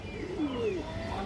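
A male pigeon gives a single short, gliding coo, close and soft against a quiet background with no talking.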